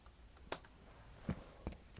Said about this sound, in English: you need to type in your new password